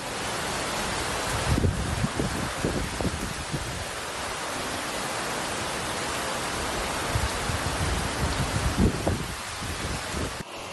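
Heavy rain pouring steadily during a red alert for several days of downpour across the Telugu states, a dense continuous wash of noise with a few low rumbling swells, with no talk.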